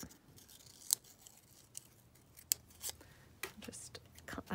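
Scissors snip paper for a book page collage, a few quiet separate cuts with soft rustling of paper between them, close and faint.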